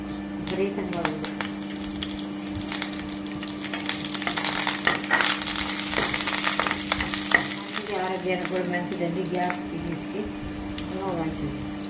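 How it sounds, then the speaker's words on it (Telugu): Tempering spices with crushed garlic and curry leaves sizzle steadily in hot oil for moong dal rasam, a continuous crackling frying hiss with scattered stirring clinks throughout. "తాలింపు వేయిందండి వేస్తున్నాను"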